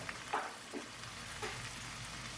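Gochujang seafood sauce with ginger and garlic boiling in a pan, a soft steady bubbling hiss with a few gentle pops and stirring scrapes, close and fairly quiet.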